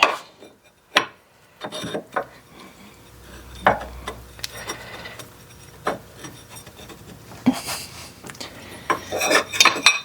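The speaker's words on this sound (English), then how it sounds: "let's see if we can get the pulley back in here" Metal clinks, scrapes and taps of a water pump pulley being fitted back onto a Ford Focus 2.0 engine, scattered close-up knocks and rubbing with quiet gaps, no talking.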